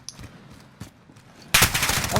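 A submachine gun in Call of Duty Modern Warfare, hip-fired at close range, opens up in a sudden loud, continuous rapid-fire burst after a few soft clicks and handling noises.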